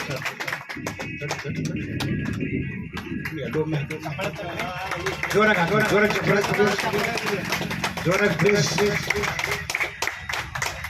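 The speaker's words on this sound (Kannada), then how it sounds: "ಜೋರಾಗಿ ಚಪ್ಪಾಳೆ ಮಕ್ಕಳೇ" Steady clapping from a crowd of schoolchildren honouring guests at a ceremony, sustained and fairly close, with voices and speech running over the applause throughout.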